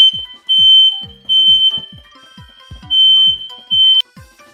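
Indoors in a kitchen during a breakfast cook-up, a smoke alarm shrieks loudly and close in repeated long piercing beeps, broken by short gaps, with soft clattering underneath and no talk.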